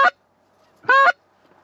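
Cackling geese honking during a goose hunt in Canada: two short, nasal calls close by, the first clipped and the second longer and louder, separated by near silence.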